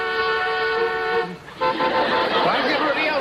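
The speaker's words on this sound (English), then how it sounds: "Why is everybody else honking?" Car horns honk in traffic, a sustained tonal blare that breaks off briefly and returns with several overlapping horns, loud and close amid street noise and people talking.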